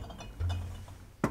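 A glass fermentation bottle of homebrewed beer is unsealed at bottling time, giving a single sharp clink near the end after a quiet stretch with a low rumble.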